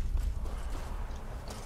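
Horse hooves clip-clopping at a walk in the fantasy role-playing game Skyrim, a steady close rhythm of soft hoof falls over low ambient rumble, with no talk.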